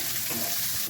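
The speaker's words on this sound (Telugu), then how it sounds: "ఉల్లిపాయ, పచ్చిమిరకాయ వేసాము, మంచిగా వేగిపోయింది అండి" Onions and green chillies fry in a pan for poha upma, a quiet, continuous broadband sizzle with faint bubbling, steady throughout and ending abruptly, with no talk.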